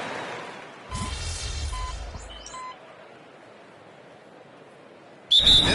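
A referee's whistle in the NBA 2K26 basketball video game: a short, shrill tonal blast cuts in sharply near the end, preceded by fainter whistle-like tones over a steady murmur of arena crowd noise.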